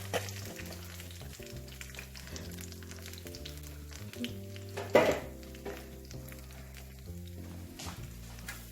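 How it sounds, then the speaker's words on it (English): A soft, steady sizzle of food frying in a pan, with occasional light clinks and one sharper clatter, over faint background music. "Oh, listen to that sizzle."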